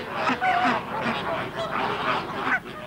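Geese honk repeatedly in a noisy flock at a water bird park, overlapping calls rising and falling at a moderate distance.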